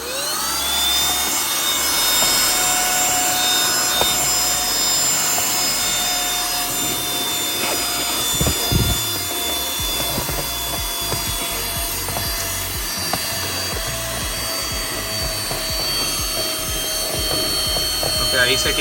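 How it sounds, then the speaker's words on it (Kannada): A Shine X Pro cordless vacuum cleaner running on its low setting gives a steady motor whine with a high tonal hum, constant and close throughout, with occasional brushing and rubbing noises. "ಸೊ ಇದನ್ನು ಆನ್ ಮಾಡ್ತೀನಿ. ಫಸ್ಟು ಲೋ ಸೆಟ್ಟಿಂಗ್ಸಲ್ಲಿ ಇಡ್ತೀನಿ"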